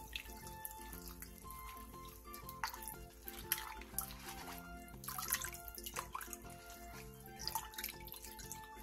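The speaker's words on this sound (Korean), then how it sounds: "데친 배추는 바로 찬물에 헹군 뒤 물기를 꼭 짜주세요." Blanched napa cabbage is rinsed in cold water at a kitchen sink, a steady running tap with splashing and dripping, moderately faint, under a constant background music bed.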